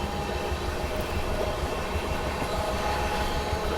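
The Duronto Express, an Indian passenger train, runs on the rails between Bangalore and Kolkata, making a continuous loud rumble with a low rolling roar and faint wheel clatter, heard from on board with no voices.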